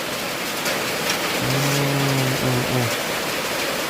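Heavy rain pours down in a dense, steady hiss, with a brief tonal hum rising above it midway.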